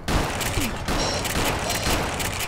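Gunfire rattles in Fallout: New Vegas, with rapid overlapping shots and crackling bursts filling a short, loud stretch of combat noise that ends in a headshot.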